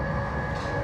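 A Chinese high-speed train running at speed gives a steady broadband rumble and rush with a constant tonal whine, heard from inside the carriage with no talking.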